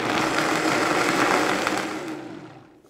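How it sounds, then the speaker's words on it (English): A Vitamix blender whirs loudly as it purees a mole sauce mixture, a dense steady motor roar that winds down and fades out near the end. "Put the top back on here and blend."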